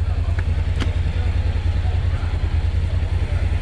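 Motorcycle engine idling up close during a road trip to Trindade, Goiás, a loud, steady low rhythmic chug with faint background noise and no speech.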